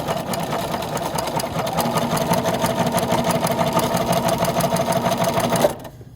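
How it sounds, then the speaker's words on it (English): A sewing machine stitches a Flying Geese quilt block along a chalk line, a fast even mechanical chatter running steadily for several seconds at close range before stopping abruptly, no talking. "we're going to stitch on the line all the way across"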